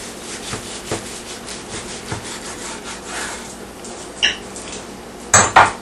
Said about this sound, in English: I had to break out the big butcher knife